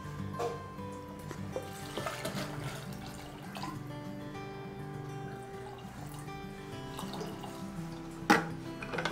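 Water runs into a pressure cooker holding mutton for a curry to go with idli, a soft steady pour under background music.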